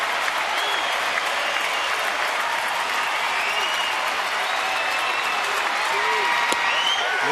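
A large crowd at a Pittsburgh at Houston baseball game in 2009 roars and claps steadily in an unbroken wall of cheering, with a few whistles and a faint voice under the noise.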